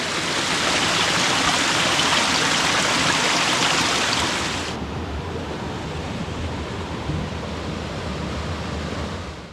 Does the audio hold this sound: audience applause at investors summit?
no